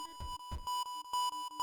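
Morse code beeping from the video game World of Horror: a steady electronic tone switching on and off in short and longer pulses, preceded by two brief dull thumps, loud and clean with no voices.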